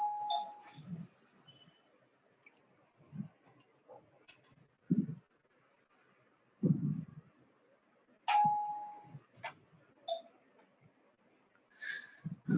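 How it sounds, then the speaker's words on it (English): A home doorbell rings a few separate times, short chimes spaced apart in a quiet room, with faint thuds and small sounds between them. "the impatient soul ringing the doorbell is my son."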